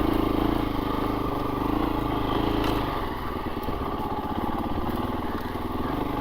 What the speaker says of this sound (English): the bike is pulling itself with no clutch. Like, that's just idling through.